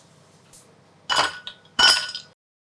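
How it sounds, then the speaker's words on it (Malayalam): Ice cubes dropped into cucumber, mint and lemon juice make two sharp, close clattering clinks about a second apart, with a faint tap just before and quiet in between. "നമുക്ക് കുറച്ച് ഐസ് ക്യൂബ് ഇട്ട് കൊടുക്കാം"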